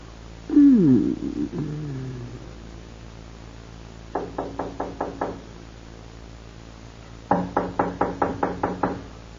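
Knocking on a door in an old radio drama: two bursts of rapid raps, the first about six knocks and the second about eight, clear and close, following a short muffled vocal sound at the start.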